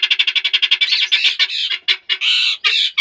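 Turkeys squawk loudly and close by, starting with a quick run of sharp rhythmic calls that break into longer, harsher shrieks and squawks with short gaps between them.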